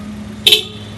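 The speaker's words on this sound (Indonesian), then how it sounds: "Terakhir klakson." A single short car horn honk from a 2020 Honda HR-V Special Edition, loud and close, over a steady low engine hum.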